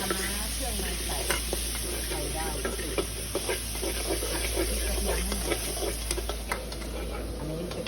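Pad see ew with pork being stir-fried at a noodle stall, a steady loud sizzle with repeated scraping and clanking of a spatula in the wok, while people chat nearby.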